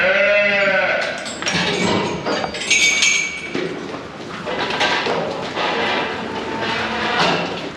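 A dairy farm at calving time, with loud bleat-like cow calls near the start and again later, amid metallic clanks of gates and barn equipment and a busy background.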